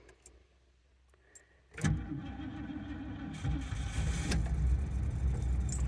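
A 1978 Lincoln Continental sedan with a 7.5-litre 460 V8 cold starts: a few faint clicks, then the starter cranks and the engine catches into a loud, steady, close idle that steps up a little higher soon after.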